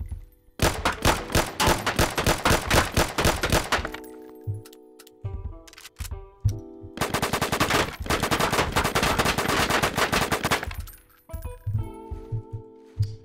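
ACS guns in a Roblox Studio game fire in rapid automatic bursts, two long rattling volleys with short pauses and scattered single shots and clinks between, loud and close with no speech.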